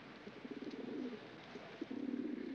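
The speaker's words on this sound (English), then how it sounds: "Pigeons prefer rye crisps" Pigeons cooing close by, a soft run of low, throaty, rolling coos in two bursts over faint room noise.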